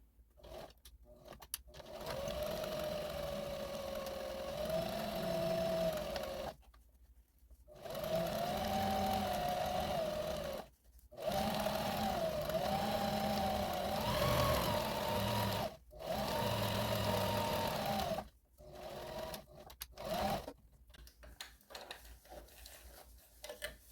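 Sewing machine stitching a drop cloth trash can liner, running in several sustained bursts of rapid mechanical whirring separated by short pauses, close and clear with no talking.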